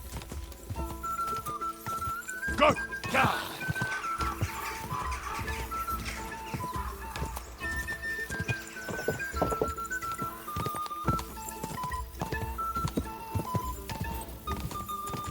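A horse gallops in the video game Kingdom Come Deliverance II during a race, its hoofbeats a steady clip-clop rhythm running for about fifteen seconds at moderate volume, with a brief whinny and a short spoken word over it.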